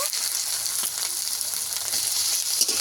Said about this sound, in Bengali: টমেটো আর পেঁয়াজ আমি একসঙ্গে কিছুক্ষণ নাড়বো।